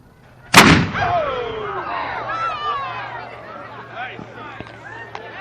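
A small cannon fires at an outdoor reunion: one loud, sharp boom rolls out into a long echoing decay lasting several seconds, with crowd chatter and murmuring beneath and a few faint later pops.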